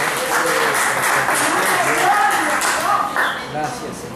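A church congregation applauding during a Spanish-language service, a dense, steady wash of many hands clapping that fills the space and thins slightly toward the end, with voices mixed into the crowd.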